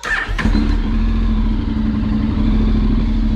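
A Honda XADV750 motorcycle engine cranks briefly with a short whir and then catches, settling into a loud, steady idle close by.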